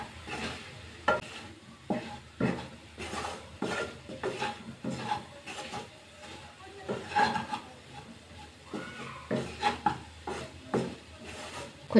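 A spoon scrapes and stirs ground spice powder into a potato and gram flour sabji simmering in a pan, with repeated rhythmic scraping strokes over a soft, continuous sizzle.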